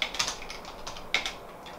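Quick keystrokes on a computer keyboard while entering a git commit message, a short burst of light clicking taps with a few sharper hits, close and alone.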